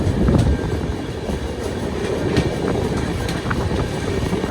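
The Bagmati Express runs along rails in a steady rumble with faint clicks of wheels over joints, heard from on board, loud and continuous.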